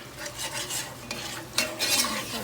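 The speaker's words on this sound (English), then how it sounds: "And let me stir it." A spoon stirs Dominican stewed eggplant seasoned with sazon achote in a pot, giving soft scraping and gentle sizzling in a few irregular strokes at low volume, with no talking.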